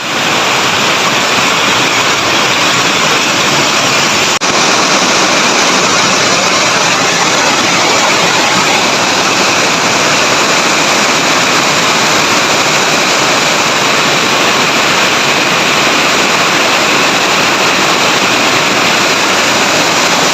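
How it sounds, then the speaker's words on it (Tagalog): A dense, unbroken roar of heavy evening rain pours down loudly and steadily for the whole stretch, with no voices. "Umulan na."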